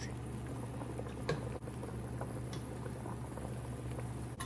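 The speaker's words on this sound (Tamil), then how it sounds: "இந்த உருளைக்கிழங்கு இன்னும் அவியலை அதோடு சேர்த்து கொஞ்சம் நேரம் இதையும் அவிய வைக்க போகிறேன்" A pot of potatoes, corn and eggs boils for a Mexican-style seafood crab boil, a steady soft bubbling and patter with a low hum beneath, faint and continuous.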